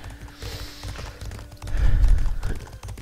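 Horse hooves thud in a video game during combat, a soft rhythmic clopping mixed with game noise and scattered impacts, growing louder in the middle of the stretch.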